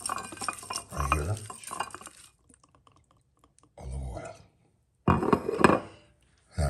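Shrimp and scallops get stirred in a pan with a garlic wine sauce, producing bursts of clattering scrapes and light sizzle separated by quiet gaps.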